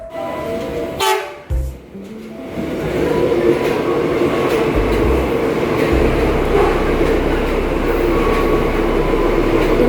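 A commuter train at Klender Baru station rumbles close by, a steady loud rolling roar with a low rumble building after a few brief clunks and knocks at the start.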